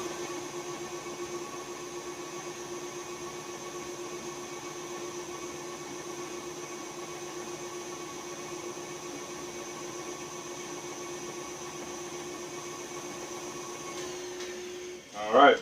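Steady, droning motor hum with a constant tonal whine as peanut butter is mixed into old-fashioned peanut butter cookie dough, running unbroken for about fifteen seconds before a brief clatter at the end.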